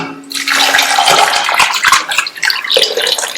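Water pours into a pressure cooker holding potatoes, a close, steady splashing gush with bubbly spatter that briefly falters near the end.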